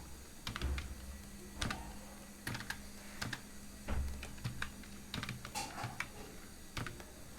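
Computer keyboard typing while writing an SQL statement, a steady stream of close, moderately loud key clicks with brief gaps, over a faint background hum and no speech.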